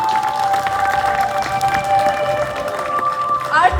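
An audience at a school gathering applauds with steady, dense clapping for the whole few seconds, while a sustained tone and a faint voice run underneath.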